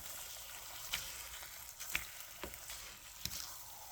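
Eggs frying in a pan, a quiet steady sizzle with a few sharp crackles and pops scattered through, close and alone without talking.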